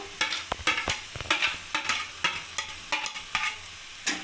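Mashed eggplant with spices and chopped coriander being mixed in a pan, a rapid series of sharp spoon taps and scrapes in a fairly regular rhythm over a faint sizzle, with no speech.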